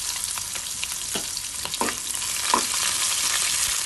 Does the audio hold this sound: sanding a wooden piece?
no